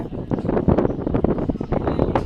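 Cold breeze on Gabbar hill near Ambaji, heard as continuous gusty wind buffeting the microphone in uneven rumbling bursts, with no voices.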